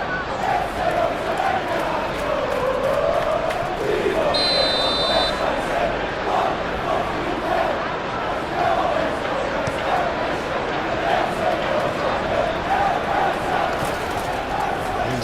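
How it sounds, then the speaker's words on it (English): Stadium crowd in the football video game eFootball PES 21 during an Everton versus Manchester City Premier League match, a steady loud murmur and roar filling the whole stretch, with a brief whistle-like tone partway through and commentary speech over it. "You can hear the annoyance in the crowd."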